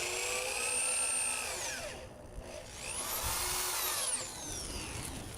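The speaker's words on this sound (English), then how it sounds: "I first pre-drilled and countersunk 3 holes at the ends of the long 2x10s to avoid splitting when driving the screws" A power drill pre-drilling and driving 2.5-inch deck screws into 2x10 wood boards for a raised vegetable bed, its motor whining with rising and falling pitch sweeps, close and steady with a short dip in the middle.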